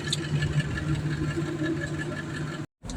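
A generator at a workers' camp runs with a steady, even mechanical hum and drone, close and continuous, before cutting off abruptly near the end.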